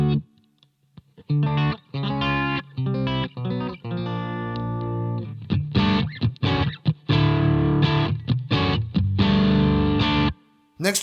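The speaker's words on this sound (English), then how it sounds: "This next one's a Vox AC30." A bright, crunchy electric guitar through a Boss IR-2 Vox AC30 emulation plays stop-start chords and riffs with short pauses between phrases, loud and close.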